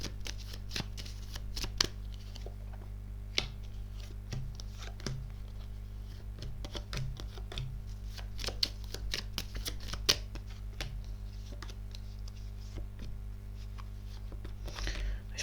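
A deck of tarot cards being shuffled by hand during a reading, with soft repeated riffles and light taps at close range, fairly quiet over a steady low hum.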